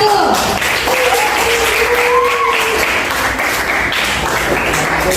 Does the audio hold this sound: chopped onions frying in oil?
no